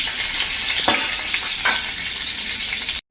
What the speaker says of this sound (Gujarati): આને આપણે સહેજ તેલમાં કૂક કરી લેશું, સૂકો મસાલો।